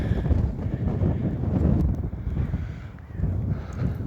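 Gusty wind buffets the microphone with a steady low rumble on a rainy walk around Houghton chalk pit, swelling and easing without any talk.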